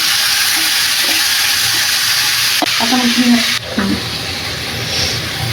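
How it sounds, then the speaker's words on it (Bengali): Taro stolons (kochur loti) dropped into a hot wok give a steady, close sizzling hiss throughout, with a few brief clinks and a short tonal hum midway, and no talking. "কড়াই গরম করে আমি কিন্তু একবারে এটাকে চড়াই দিচ্ছি।"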